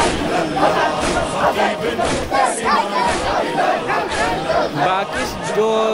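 A large, dense crowd at a Muharram procession in Jogibeer, with loud continuous chanting, shouting and babble close around, many voices overlapping throughout.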